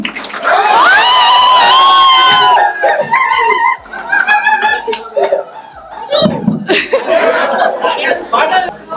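Audience at a Sankranthi celebration dance performance erupts in loud, close cheering and shrieks with some clapping, then the crowd noise settles under people talking.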